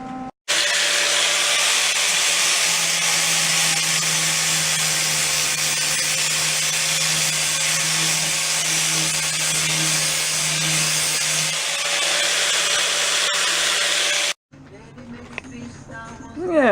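Angle grinder smoothing welds on a 1965 VW Beetle heater channel, a loud steady abrasive whine running continuously for about fourteen seconds before cutting off, followed by brief talk.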